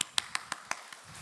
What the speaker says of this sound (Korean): 제가 여러분들을 위해 박수를 쳐드리겠습니다.